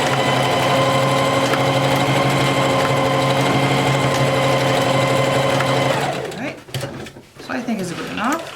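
A sewing machine runs a steady, fast zigzag stitch over elastic on a satin hair bonnet, whirring continuously for about six seconds before stopping, followed by faint handling and fabric rustle.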